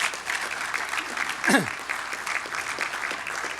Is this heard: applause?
yes